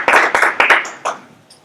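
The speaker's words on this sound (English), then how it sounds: "A big round of applause." A few loud, separate claps from a small group follow a candidates' debate, several sharp bursts trailing off into quiet.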